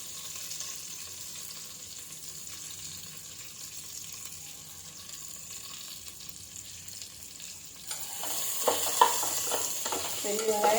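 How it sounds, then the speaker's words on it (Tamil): Chopped big onions for a mushroom biryani fry in a pan: a faint, soft hiss for most of the time, then a louder sizzle with rattling stirring and clinks near the end, and no voices. "ஸோ அந்த பெரிய வெங்காயத்தையும் அது கூட போட்டு நல்லா இப்போ வந்து வதக்கிக்கலாம்"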